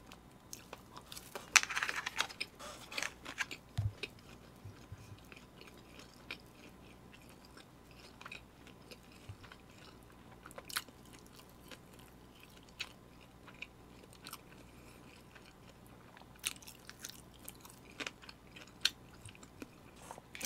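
Someone eats a convenience-store kimbap lunchbox, with faint, close chewing and soft crunches scattered irregularly over a long, quiet stretch, plus occasional light clicks of container or utensils.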